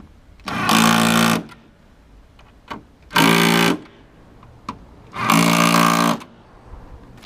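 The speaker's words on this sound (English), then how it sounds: "This Milwaukee Badass puts out like 125 foot-pounds torque. Just melts these bolts in" A Milwaukee cordless impact driver rated at about 125 foot-pounds drives bolts in three loud bursts of rapid hammering, each lasting roughly a second, with quiet pauses and small clicks between them.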